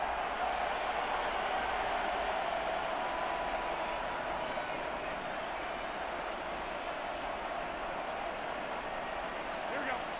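Steady roar of a stadium crowd in a Madden 24 football game between the Raiders and Patriots, a dense continuous wash of cheering that holds evenly throughout.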